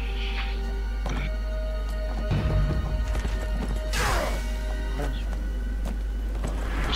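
Horse hooves clopping in the online fantasy game Neverwinter, a few thuds mixed with game combat effects, whooshes and tonal chimes at a steady moderate level.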